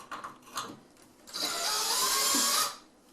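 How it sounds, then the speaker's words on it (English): A drill driver whirs steadily for about a second, loosening screws while removing a range hood, preceded by a few short clicks and taps of handling nearby. "I just do the trusty drill drivers here to get them not necessarily out all the way, but at least loose"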